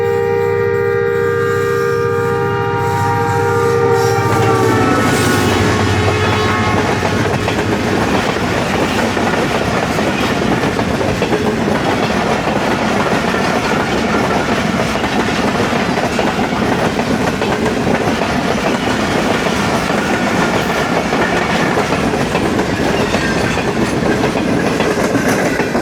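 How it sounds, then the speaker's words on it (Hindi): The 41 Up Karakoram Express passes Ranpethani station at 66 km/h, a horn sounding at first before giving way to a loud, sustained roar of wheels and wagons with steady clickety-clack, close and unbroken. "66 किलोमीटर्स पर आवर की स्पीड पे से निकल गई रन पठानी स्टेशन से 41 अप कराकरम एक्सप्रेस"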